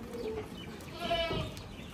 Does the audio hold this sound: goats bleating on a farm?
yes